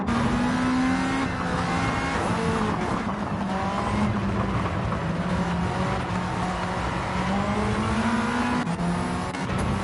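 A race car in a round of the Autocare '25 season accelerates hard out of a corner, its engine note climbing steadily and staying loud and close, with a faint squeal of tyres underneath.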